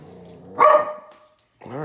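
A single loud dog bark close by in a house, followed by a short silence and then a voice speaking.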